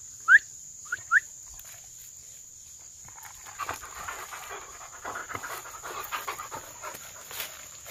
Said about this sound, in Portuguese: Cachorro de Paulo Ferreira de Souza.